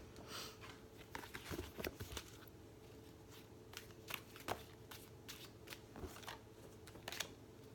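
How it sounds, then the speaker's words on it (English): Deck of oracle cards shuffled by hand, with quick rustling bursts and crisp card snaps repeating irregularly, faint and close with no voice over them. "see, there goes my shuffling skills"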